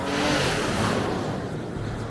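A 2025 Nissan Armada Platinum Reserve twin-turbo SUV accelerating hard during a 0-60 run, heard from inside as a broad, steady engine and road roar with wind, no talk, easing slightly toward the end.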